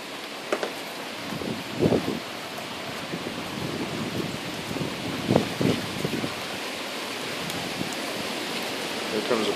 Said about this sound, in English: Here comes a big wind.